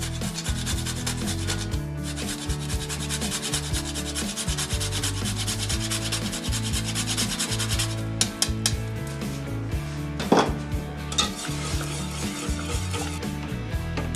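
Whole nutmeg being grated by hand into béchamel for spinach lasagna, producing continuous loud rhythmic rasping strokes, close up and uninterrupted, with no speech.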